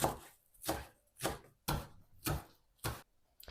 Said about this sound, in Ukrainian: Дрібненько нарізаю невеличкий пучечок зеленої цибулі.